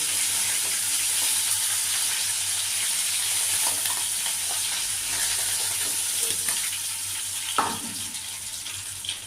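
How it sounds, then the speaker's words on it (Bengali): Amudi fish fry in hot oil, a steady, close sizzle with light crackling, punctuated by occasional utensil taps and one sharper clink near the end, with no speech. "এভাবে দু তিনবারে মাছগুলো আমি ভেজে নেব"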